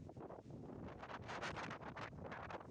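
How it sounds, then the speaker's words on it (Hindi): Steady strong evening wind in Havelian, Abbottabad, buffeting the microphone, a continuous rough broadband rush with gusty swells, fairly faint and without voices. "तेज़ हवा है यहाँ पे और आंधी भी बहुत तेज़ चल रही है।"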